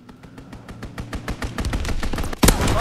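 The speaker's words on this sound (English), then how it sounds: "Enemy strafing run, inbound!" Rapid bursts of strafing gunfire from an enemy aircraft in the World War II shooter Call of Duty WW2, a dense run of sharp shots that grows louder and ends in a heavy blast, with no talk.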